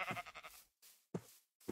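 Minecraft sheep bleating in a video game: several short, nasal baa calls in quick succession with brief silent gaps, moderately loud and close, with no talking.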